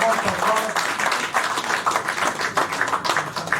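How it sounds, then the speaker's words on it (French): An indoor audience at a Paris gathering breaks into dense, continuous applause, many hands clapping together at steady volume with voices mixed in. "si on peut applaudir encore"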